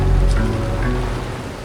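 Rain pattering steadily on a hiking tent during a downpour on a trail in Germany, a close, continuous wash of drops with no voices.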